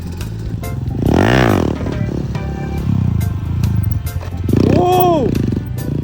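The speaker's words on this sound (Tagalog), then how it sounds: "Yan, clutch control, Champurado!" Motorcycle engine revving and held on the clutch during one-hand circle wheelie practice, rising and falling loudly with a sharp high rev sweep near the end, under shouting and talk from onlookers.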